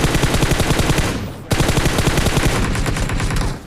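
Rapid automatic gunfire from the mobile shooter PUBG Mobile rattles loud and close in continuous bursts, with a brief break midway before the firing resumes.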